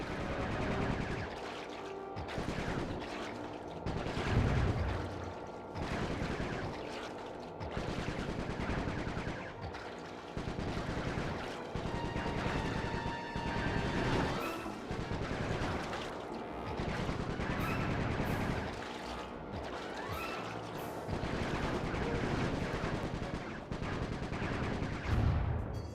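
Rapid bursts of gunfire from the video game Sly 3: Honor Among Thieves, repeated volleys and machine-gun rattles layered over game music and effects throughout, loud and continuous.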